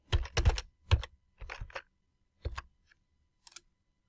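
Keys tapped on a computer keyboard while a password is entered during Linux cloud server setup, a few quick bursts of clicks followed by sparse single taps, close and clear with no talking.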